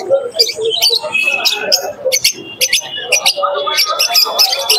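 Many birds chirp and tweet densely at the Santipur bird market, where pigeons are sold, forming a constant close chorus of overlapping calls with voices talking underneath.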